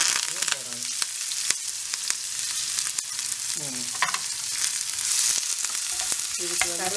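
Okra with onion and curry leaves frying in an iron pan, a steady close sizzle with intermittent stirring scrapes throughout, no voices.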